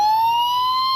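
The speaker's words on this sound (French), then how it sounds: "c'est un camion de pompiers Disney qui m'accueille avec Donald au volant" A Disney toy fire truck gives off a steady electronic siren, a single sustained wailing tone with high harmonics that rises slowly in pitch, close and loud for about a second with no talking.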